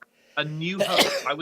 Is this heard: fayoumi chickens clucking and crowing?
no